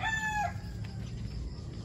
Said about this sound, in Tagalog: Yan ang ating mga manok.